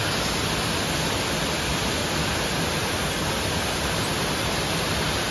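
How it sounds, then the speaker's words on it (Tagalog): Balagbag Falls waterfall in Real, Quezon gives a steady, loud, unbroken rushing roar that fills the whole stretch with no pauses and no voices. "Ganda ng falls. Yan. Balagbag Falls."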